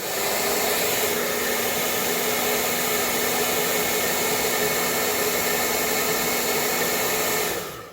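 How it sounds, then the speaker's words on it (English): A hair dryer blows steadily and loudly for about eight seconds, warming a boiler condensate pipe to soften it, then cuts off right at the end. "use a hair dryer"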